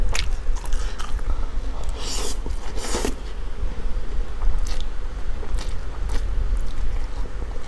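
Close-up crunchy bites and chewing of Wai Wai instant noodles with stir-fried clams, several sharp crunches among steady mouth noises over a constant low hum, with no talking.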